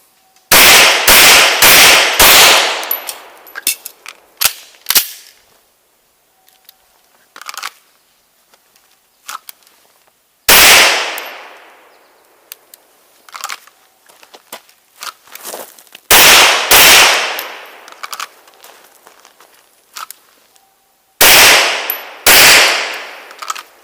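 Smith & Wesson M&P 2.0 pistol with a 5-inch barrel fired at an outdoor range: loud, sharp gunshots in quick bursts of two to four, separated by pauses and faint clinks.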